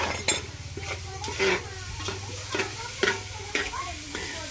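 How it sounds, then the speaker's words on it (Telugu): A spoon scrapes and stirs tomato paste around a sizzling frying pan in repeated rhythmic strokes, with clinks of utensil on metal over a low frying hiss. "టమాటా పేస్ట్ వేసుకొని మళ్ళీ అన్నీ తిప్పినట్టు వాటిలో బాగా కలిపుకోవాలి"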